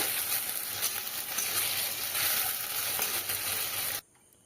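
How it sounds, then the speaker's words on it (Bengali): Ground ginger, onion and chili paste frying and being stirred in a pan, a loud steady close sizzle that cuts off abruptly near the end. "আদা পেঁয়াজ লঙ্কা যে বেটে রেখেছি সেই মশলাটা আমি দিয়ে দিলাম এবার আরেকটু নেড়ে নেব"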